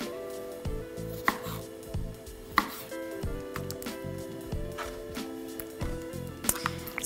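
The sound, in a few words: quartering tomatoes with a knife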